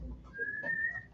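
A person at a council meeting roll call attempts a whistle, producing one thin, steady tone that holds for about a second at moderate loudness over quiet room background.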